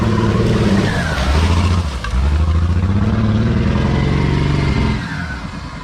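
A 24-valve 5.9L Cummins diesel truck, with its top cut off, revs hard through a mud hole, its engine rising and falling in loud surges before easing off near the end.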